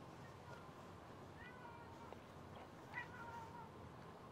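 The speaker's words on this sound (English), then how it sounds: "That's my cat, if you can hear that," A house cat meows faintly in the background, a few short, soft calls behind quiet room noise.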